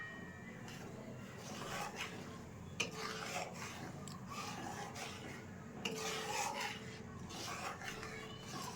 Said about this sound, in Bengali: সুজিটা দিয়ে একটু নাড়ব